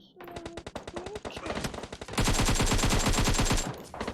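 Rapid video game gunfire, a steady string of sharp close shots building into a loud, dense automatic burst over a few seconds, with a voice briefly audible at the start.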